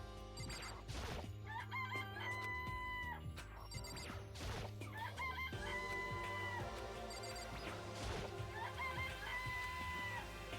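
Chicken clucking and crowing sound effects in the video game Danganronpa, repeated short calls layered over a steady background music loop, faint and fairly even.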